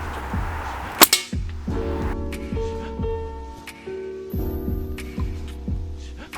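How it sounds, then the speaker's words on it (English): A homemade 50 caliber air rifle fires at a steel plate one tenth of an inch thick, giving one sharp, loud crack and clang, followed by a ringing, pulsing metallic hum and repeated throbbing beats. "So down there I got a 1/10 of an inch thick steel plate, and I'm gonna shoot it"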